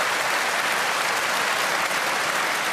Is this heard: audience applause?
yes